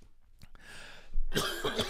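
One cough, near and abrupt, follows a short breathy lead-in.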